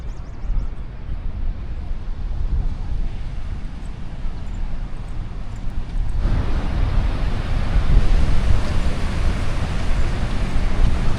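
Niagara Falls thunders as a steady, heavy broadband roar that grows louder partway through, mixed with buffeting wind noise and no talking.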